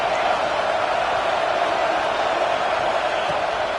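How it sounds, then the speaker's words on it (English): A home football crowd roars steadily through a college football video game between Miami and Florida State, a loud, dense and unbroken wash of cheering. "And how nice is it to have the home crowd going absolutely bananas?"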